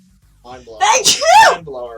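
A single sharp sneeze bursts out in the middle of lively conversation between people chatting about a video game, close and loud, with talking before and after it.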